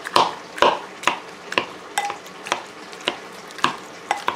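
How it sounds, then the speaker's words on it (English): Avocados being mashed for guacamole, a kept-chunky mash, with a steady series of squishy, thudding presses about every half second, close and fairly clear, no voices. "Just mash up those avocados"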